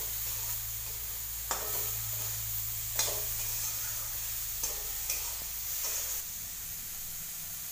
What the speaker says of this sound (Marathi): हलवत राहायचं आहे 5 मिनिटं,